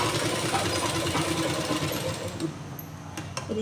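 A sewing machine stitches the lining of a blouse, running loud and close in a rapid rattling whir for about two and a half seconds before slowing and stopping, followed by a few light clicks.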